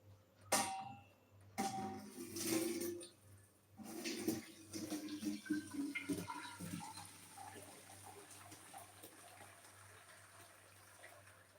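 Water thrown from a container into a pot on a hot plate while cooking ackee and saltfish with boiled dumplings, heard as a brief splash and gush followed by a few seconds of trickling, dripping and sizzling, close up.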